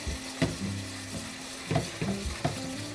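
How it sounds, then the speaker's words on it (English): A spoon stirring bourbon caramel sauce in a hot pan with the heat off, giving soft scraping strokes in an irregular rhythm over a low, steady sizzle, close and fairly quiet. "just let it cook in that hot pan and keep stirring"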